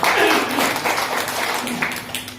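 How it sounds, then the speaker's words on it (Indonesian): Crowd applause fills a church service, a dense wash of many hands clapping at steady loudness, with faint voices mixed in. "Berikan tepuk tangan kepada Tuhan."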